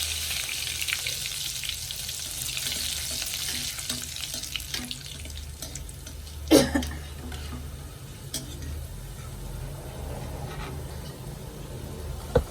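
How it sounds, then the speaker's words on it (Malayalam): Curry leaves frying in hot oil for a potato mixture, a steady crackling sizzle throughout with a sharp clink near the middle and a few light taps, no talk. "ആദ്യം കുറച്ച് കറിവേപ്പില വറുത്തെടുക്കാം"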